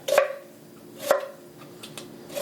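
A sharp knife cuts through meat between ribs in three distinct strokes, each a close, crisp crunch followed by quiet.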